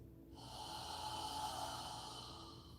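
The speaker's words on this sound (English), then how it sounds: "Follow your breathing as you inhale through your nose" A slow, steady inhale drawn in through the nose during a home yoga and meditation breathing exercise, a soft airy rush lasting a few seconds, close and quiet with no talking over it.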